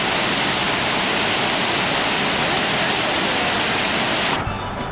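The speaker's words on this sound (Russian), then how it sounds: "первая достопримечательность Пенсильвании – это водопад" A waterfall in Pennsylvania roars as a constant, loud, broadband rush of falling water, heard from nearby and steady throughout, until it cuts off abruptly just before the end.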